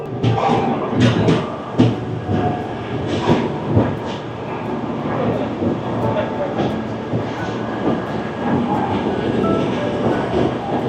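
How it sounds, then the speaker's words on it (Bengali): The Puri to Sealdah Duronto Express pulls out of the station with a continuous, loud rumble of wheels and rattling carriages heard from on board. "তো ফ্রেন্ডস, আমাদের ট্রেন একদম ঠিক টাইমে ছেড়ে দিল।"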